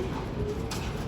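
Soft, low pigeon cooing close by, a brief muffled murmur over a steady background hum.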